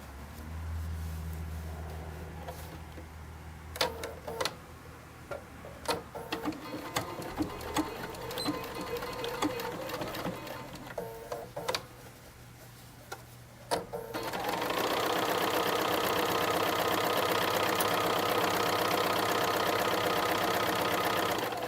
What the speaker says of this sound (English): we're going to stitch 1/4 of an inch all the way around from this point, back stitching here, all the way to back here and back stitch again